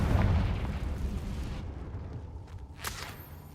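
The Confringo fire spell bursts in the Hogwarts Legacy video game with a loud, booming explosion right at the start that rolls off into a fading rumble, followed by a brief sharper burst near the end.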